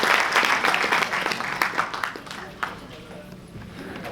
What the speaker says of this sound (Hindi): बहुत जोर से तालियों से स्वागत करना।